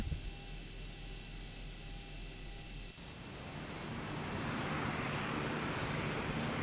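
Airliner engines in the X-Plane flight simulator as the aircraft starts taxiing toward the runway: a steady jet whine and broadband roar that swells noticeably partway through and then holds loud and constant, with no voices.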